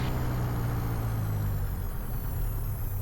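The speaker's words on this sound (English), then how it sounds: "Make sure it's idling at 500 to 700, which it is." A light aircraft engine idles on the ground before takeoff with a steady, even low drone and a constant propeller hum, close and unbroken throughout.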